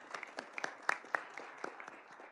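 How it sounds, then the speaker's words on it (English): Sparse, scattered clapping from a conference audience at an energy-transition skills event, a thin round of applause with irregular individual claps, fairly faint and without talk. "So I'd like to invite you all to give a round of applause."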